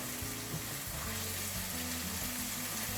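Butter and olive oil sizzling in a pan, a steady dense crackle with a low hum of music or rumble underneath, no pauses.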